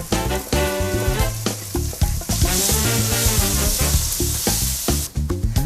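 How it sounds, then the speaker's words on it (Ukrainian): Onions sizzle and crackle steadily in a hot frying pan, loud and close, with occasional stirring scrapes and no talk. "Тепер цибулька і смажимо до готовності."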